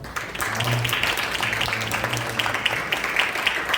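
A church congregation applauds its praise team during a worship service, a moderate, steady patter of clapping from a room of people with faint voices underneath.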